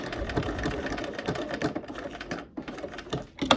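A sewing machine stitches a buttonhole, giving rapid close ticking and clattering in a dense irregular rhythm for a few seconds, with no talk.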